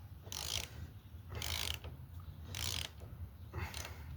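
A hand ratchet tightens lock nuts on Rockwell leaf spring shackles, producing repeated bursts of rapid clicking, about four strokes in a regular rhythm, close and fairly faint, with short pauses between pulls.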